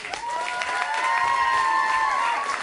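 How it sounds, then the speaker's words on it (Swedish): A crowd at a youth-centre rock competition final applauds and cheers for the opening band, a steady wash of clapping with whistles and shouts rising over it, fairly loud and sustained. "Ge dem ännu en stor, varm applåd."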